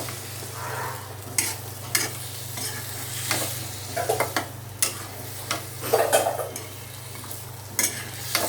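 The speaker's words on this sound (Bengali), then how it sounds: "আলুটা একটু কষাই নিব, ডাটাও দিয়ে দিলাম।" Potatoes and vegetable stalks stir-fry in a pan, a steady sizzle with a low hum beneath and repeated scraping, clattering strokes of a spatula, close and without talk.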